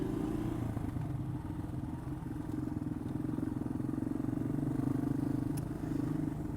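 A Yamaha XT225 dual-sport motorcycle rides through dirt tracks, its single-cylinder engine a steady, close, droning putter that holds for several seconds with faint rattles and no speech.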